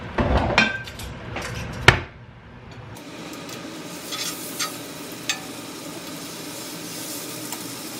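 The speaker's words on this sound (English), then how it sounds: "Just gonna add some frying oil" Clattering of a pan and utensils gives way to a steady, soft sizzle of a burger patty frying in a dash of oil, with occasional light knocks.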